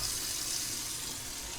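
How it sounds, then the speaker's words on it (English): Warm tap water runs steadily from a faucet to rinse developed color film, a continuous close hiss of flowing water with no pauses. "And now I'll rinse it in warm water, warm tap water."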